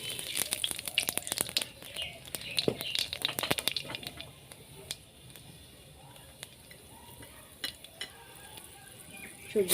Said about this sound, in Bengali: কালো জিরে ফোড়ন দিয়ে দেবো